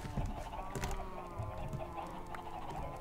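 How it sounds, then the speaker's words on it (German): Chickens clucking near a henhouse in the Minecraft video game, a steady run of short clucks over a busy background with faint mechanical noises mixed in. "Ich habe da irgendwo Hühner gehört."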